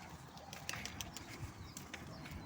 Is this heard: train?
no